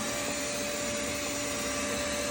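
A vacuum sucks yellowjacket wasps off their nest, its motor giving a loud, constant close-up drone with a steady high whine and no speech.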